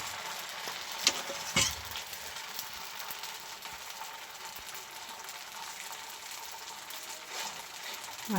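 Patishapta batter frying on a hot tawa, with a steady broadband sizzle throughout and a couple of brief clinks near the start, close and moderately loud with no talk.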